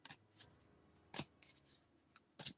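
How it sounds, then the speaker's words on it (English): Tarot cards are shuffled by hand in a quiet room, with several sharp riffling bursts and soft slides spread irregularly over a couple of seconds. "I'm just shuffling."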